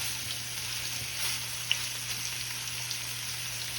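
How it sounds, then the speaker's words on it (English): Ground beef steaks sear in a cast iron skillet with a steady, even sizzle. Faint and continuous, with a low background hum and no voices. "I want to get a good sear on both sides"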